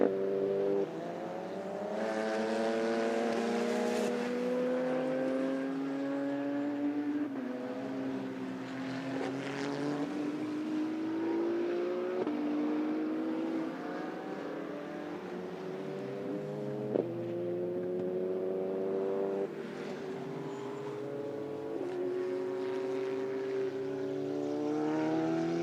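Closed-wheel race cars at the American Speed Festival, engines roaring continuously with rising and falling pitch as several cars pass and shift gears, loud and sustained throughout with no voices.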